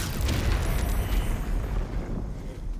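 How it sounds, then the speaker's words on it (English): A large rune powder blast in Baldur's Gate 3 erupts as a loud, sustained booming roar with heavy low rumble, tapering off slowly over a few seconds with no voices. "That was a pretty big explosion."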